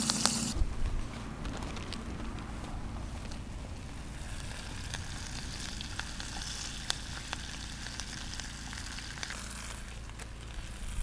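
Cooked rice fries in a pan during outdoor cooking, a steady soft sizzle with occasional small crackles, fairly faint and continuous with no talking.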